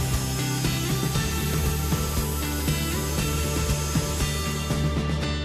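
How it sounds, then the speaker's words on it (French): A chop saw fitted with a hard, fine-toothed metal blade cuts through a metal rail, a loud, continuous ringing whine with grinding scrape that holds steady throughout and stays close. "coupez le rail aux dimensions voulues à l'aide de la tronçonneuse munie d'une lame métallique"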